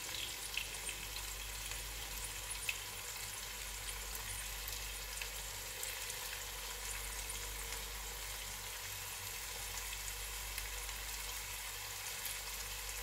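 Fried rice with seasoning cubes and salt sizzles steadily in a pan while being stirred, a constant close crackling hiss with faint scraping throughout.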